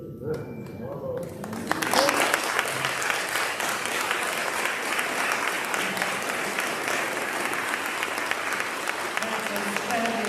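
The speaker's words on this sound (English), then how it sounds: "Can you give them another round of applause?" After a gospel song at a music festival, an audience breaks into applause. A faint voice comes first, then thick, continuous clapping swells in and carries on evenly for the rest.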